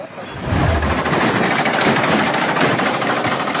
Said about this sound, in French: Violents échanges de tirs avec les forces de sécurité.